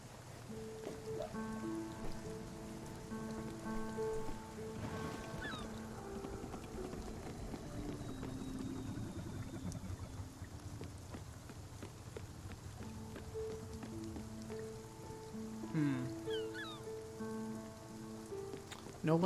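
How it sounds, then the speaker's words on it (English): Rain falls steadily on buildings in the video game Spiritfarer, a continuous patter of drops with soft, sustained musical tones playing beneath it. "It's nice that the buildings have rain effects on them"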